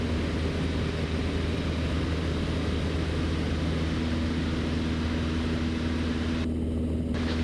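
Small propeller airplane accelerating on a short-field takeoff at Gillespie Field, a steady loud engine drone and propeller hum running unbroken throughout, close and continuous with no pauses.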